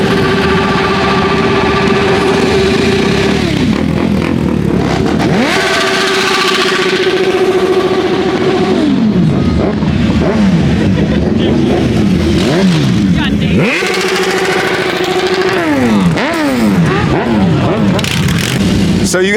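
A Triumph Rocket 3 motorcycle engine at full throttle in a parking lot, loud and close, with repeated revs rising and falling over a steady rumble, while people talk nearby.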